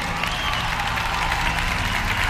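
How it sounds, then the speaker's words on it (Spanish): An audience at a pop concert in a Mexico City theatre applauds, a dense, steady wash of clapping and faint cheering heard from within the hall, with a low musical hum underneath. "Un muy fuerte aplauso, por favor,"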